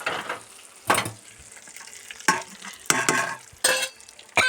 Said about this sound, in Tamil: அவ்வளோதாங்க, தாளிப்பு முடிஞ்சிடுச்சு